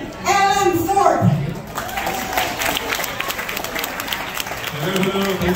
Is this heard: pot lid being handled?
no